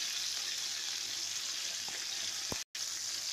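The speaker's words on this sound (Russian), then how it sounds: "С другой стороны также обжариваем до румяной корочки" Meat rolls frying in a pan, browning on their second side: a steady, quiet hiss of sizzling oil with a couple of faint clicks and a brief dropout near the end.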